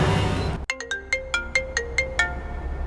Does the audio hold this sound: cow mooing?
no